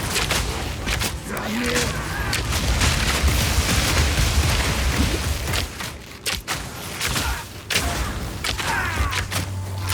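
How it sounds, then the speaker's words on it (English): Explosions burst in Path of Exile 2 amid combat, a series of loud booms and crackling blasts with fusillade-like pops and brief thuds, dense and chaotic over ten seconds. "I saw a little bit of an explosion there."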